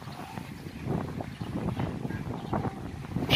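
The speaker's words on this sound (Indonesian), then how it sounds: "Cuaca panas cerah, cuma angin besar" Strong wind at Merak harbour buffeting the microphone, a continuous rough rumbling gust noise that swells and falls, with no clear speech.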